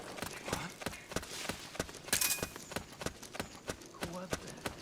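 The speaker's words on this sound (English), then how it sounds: "I hear footsteps." Footsteps in the jungle of the Metal Gear Solid 4 video game, a regular rhythm of sharp, moderately loud steps running across the clip, alongside game sounds and voices in the background.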